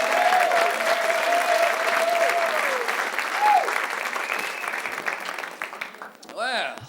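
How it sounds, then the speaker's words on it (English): Loud comedy club audience applause fills most of the stretch as a steady roar of clapping with some cheering, fading toward the end as a voice starts talking. "Give him a round of applause."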